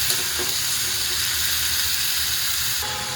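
Chopped bottle gourd pieces sizzling in a hot pan while being stirred, a steady close hiss of frying that continues evenly throughout with no talking.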